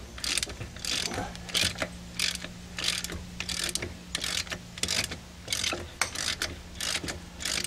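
A hand ratchet clicks in quick repeated bursts, close and crisp, while loosening lug nuts on the rear wheel of a 2005 Toyota Matrix AWD, with short pauses between strokes.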